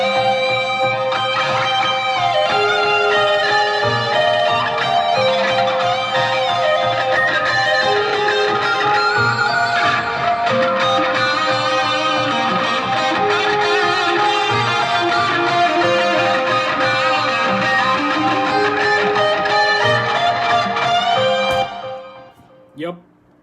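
Piano and guitar play together in a dense, steady instrumental passage that fills the whole stretch before cutting off abruptly near the end.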